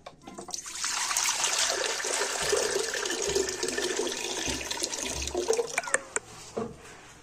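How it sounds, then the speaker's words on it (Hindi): About two liters of water pour steadily into a soup pot holding soy sauce, black pepper, salt, crushed chili and chicken, a continuous splashing gush for several seconds that trickles off at the end. "दो लीटर पानी इसमें जाएगा।"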